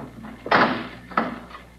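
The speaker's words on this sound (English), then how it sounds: "I should like to close the door." A heavy vault door is swung shut in a radio drama, giving two solid thuds about two-thirds of a second apart, the first louder, close and alone without talk.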